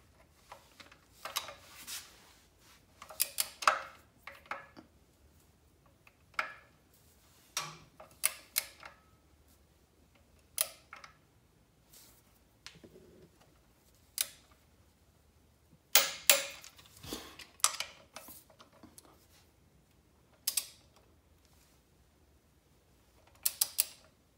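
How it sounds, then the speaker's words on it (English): Click-type torque wrench tightening 13 mm engine bolts to 37 pound-feet on a 4.8/5.3 V8, rapid ratcheting clicks in short irregular bursts with quiet pauses, close and fairly crisp. "I've already set the torque wrench to the 37 pound feet we need. We're gonna go ahead and torque both."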